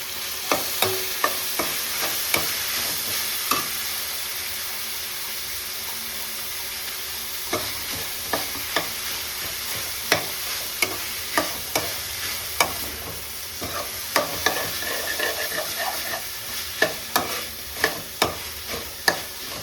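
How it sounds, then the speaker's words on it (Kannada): Carrots and beans stir-fried for South Indian style fried rice, a continuous oily sizzle broken by regular sharp scrapes and clinks of a spatula against the pan, growing more frequent toward the end, with no talk. "ಆ್ಯಂಡ್ ನೆಕ್ಸ್ಟ್ ವೆಜಿಟೇಬಲ್ಸ್, ಕ್ಯಾರೆಟ್ ಮತ್ತು ಬೀನ್ಸನ್ನು ಆ್ಯಡ್ ಮಾಡ್ತಾ ಇದ್ದೀನಿ."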